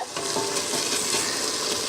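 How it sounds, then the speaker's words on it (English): Onions frying in a pan for a sauce, giving off a continuous bright, hissing sizzle that stays steady and close with no talk over it. "You hear that sizzle going again."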